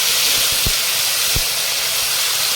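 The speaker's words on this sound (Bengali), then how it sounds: "এবারে দিয়ে দেব মশলার পেস্ট," Masala paste of onion, ginger, garlic and cashew sizzles in hot oil with whole cumin, cinnamon and cloves, a steady loud frying hiss with a couple of soft low knocks.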